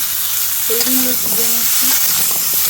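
Bottle gourd being stir-fried in a pan gives a steady, loud, close sizzle with faint scraping, and a brief tonal squeak or hum rises above it midway, no speech.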